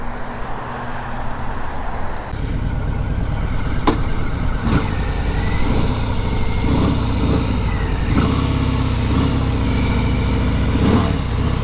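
A 2020 Harley-Davidson Sport Glide motorcycle engine idles steadily after a quieter start, a continuous low mechanical rumble with occasional small revs, close and fairly loud.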